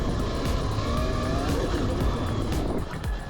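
A Yamaha YZ-EMX electric dirt bike being ridden hard in mid-power mode gives a steady, loud whine and wind rush, with gritty dirt and tire noise carrying through without break.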